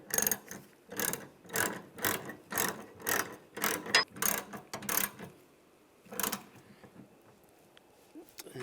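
A ratchet tightens a hood hinge bolt on a 2007-2013 Chevrolet Silverado 1500, giving a close, rhythmic series of about a dozen rapid clicking strokes, then a pause and a final few clicks.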